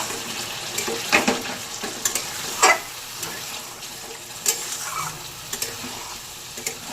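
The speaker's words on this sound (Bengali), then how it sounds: "নেড়ে নেব" Vegetarian cauliflower curry with a little water and sugar added is stirred in a pan: irregular spoon scrapes and soft clinks over a faint bubbling simmer, fairly quiet and close.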